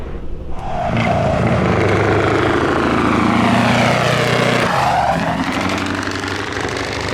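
Scania Vabis 164L V8 truck with a long custom exhaust, its engine roaring loud and close as it revs up, rising and falling in pitch, then easing back to a steady rumble.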